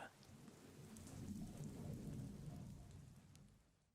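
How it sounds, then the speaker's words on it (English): Steady rain pours in the video game Voice of Cards: The Forsaken Maiden, a dense continuous hiss that swells slightly in the middle and fades toward the end, with no talk over it. "drowned out though it is by the sound of the rain"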